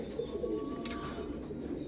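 Pigeons cooing nearby in short, low, soft calls with a single sharp click partway through, against faint background noise.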